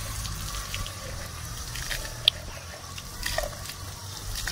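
Water runs from the tap of a roadside water tank in a steady, faint gushing hiss with one sharp clink partway through, no voices.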